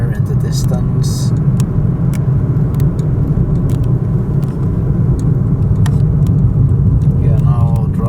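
A car drives along a road near a bridge under construction in Bueng Kan, Thailand, its steady close engine and tyre rumble continuous throughout while a voice talks over it.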